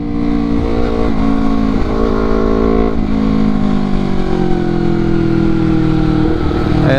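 A Honda CBR250RR 250cc sport motorcycle in sport mode accelerates hard, its engine revving loud and close with steady rising and falling pitch as gears change, and no talking.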